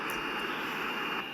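A Boeing 747 in the flight game Simple Planes takes off with a steady, faint synthetic jet-engine drone and a high whine, brief and even, with no voices over it.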